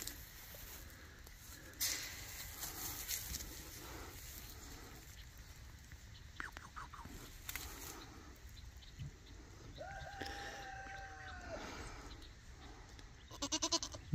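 Faint goat bleats sound at a distance over a quiet outdoor background with scattered rustles and a few soft bird-like chirps.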